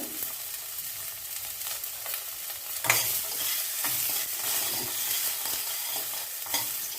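Onion, mustard seeds and curry leaves frying for a chow chow and carrot poriyal make a steady crackling sizzle, with a sharp stirring scrape near the middle and softer spoon strokes, moderately loud and close, with no talk.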